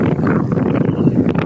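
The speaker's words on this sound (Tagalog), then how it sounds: "Di na naririnig kasi mahangin na." Wind gusts across the microphone at a ferry pier on Discovery Bay, a loud, steady rushing and buffeting roar filling the short stretch with no clear voices.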